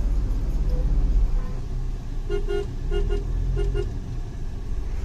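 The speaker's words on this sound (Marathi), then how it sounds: "चला आता मी गाडी करतो पार्क" A car engine rumbles close by as the vehicle is parked at the Mahurgad Renuka Mata temple parking area, with a few short horn toots in the second half.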